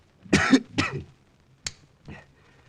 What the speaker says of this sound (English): with that cough of yours, perhaps I'd better broadcast tonight